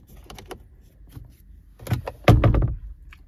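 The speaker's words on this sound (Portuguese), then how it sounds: "Porta-luvas despenca e não aparenta ter iluminação." Glove compartment of a 2024 Nissan Versa Active dropping open inside the cabin, a few close plastic clicks and knocks building to a louder thud and rattle near the end, with no talking.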